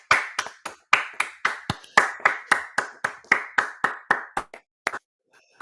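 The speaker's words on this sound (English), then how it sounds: "Let's give a round of applause for the Giants being on Sunday Night Football." A single pair of hands claps steadily, about twenty close, sharp claps in even rhythm before trailing off, with no voices over it.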